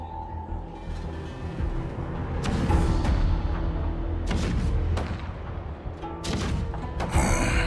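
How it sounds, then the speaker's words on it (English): Cannons rumbling in a Honkai Star Rail battle scene: a low, continuous rumble carries a series of deep booms and thuds at irregular intervals, some sharper and closer than others. "The rumble of the cannons."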